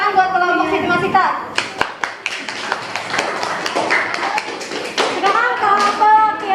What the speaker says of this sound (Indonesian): Tepuk tangan buat kelompok Siti Masita.